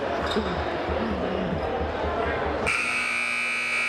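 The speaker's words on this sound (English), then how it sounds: "And there's the buzzer of death." A loud, steady electronic buzzer sounds in a gym at a women's high school state quarter-final basketball game as the quarter ends, cutting in over crowd noise and sneaker and ball sounds.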